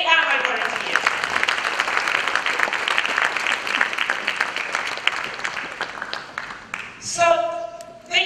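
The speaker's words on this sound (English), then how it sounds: "give a bit of a round of applause to the young people who were offering you some water" An audience at a graduate sales bootcamp applauds young volunteers, a steady dense wash of clapping that fades out near the end before a voice starts talking.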